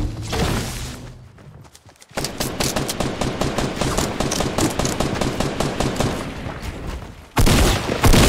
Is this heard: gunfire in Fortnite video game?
yes